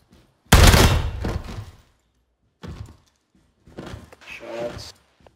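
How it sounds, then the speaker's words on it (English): Gunshots in Ground Branch: a sudden loud burst of rapid fire that trails off, followed after a pause by quieter, scattered bangs and thumps with short silent gaps between them. "Shots."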